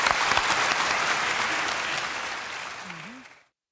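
Dense applause from a talent-show audience, loud at first and gradually thinning before cutting off abruptly.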